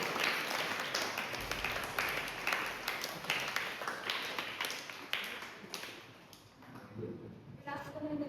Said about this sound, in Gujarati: એટલે એના માટે આપણે ફરીથી તાળીઓ પાડીએ.